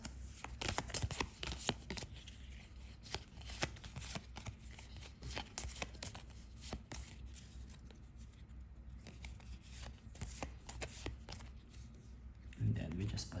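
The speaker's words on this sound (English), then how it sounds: "So we shuffle this." A deck of game cards is riffled and shuffled during a solo tabletop playthrough of Skytear Horde, with rapid crisp clicks and flutters repeating for several seconds, fairly quiet and close.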